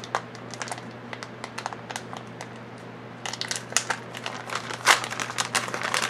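Crinkly anti-static plastic bag being handled and pulled open, with a run of quick rustles and taps that grow busier partway through.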